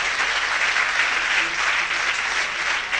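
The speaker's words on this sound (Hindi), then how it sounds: "इसके लिए ज्यादा तालियां होनी चाहिए।" A theatre audience applauds a young first-time performer, a thick, even wash of many hands clapping at steady volume throughout the short span, with no voices over it.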